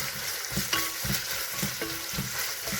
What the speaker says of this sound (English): Now saute the onions until it's well cooked and the color has to change to golden brown.